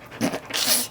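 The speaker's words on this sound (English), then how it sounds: "If you hear heavy panting in the background, it's clearly not me." A dog, a small pit bull type, panting heavily and close by in quick rhythmic breaths, with a faint whimper, no talking.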